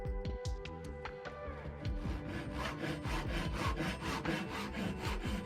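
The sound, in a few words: hand saw cutting wood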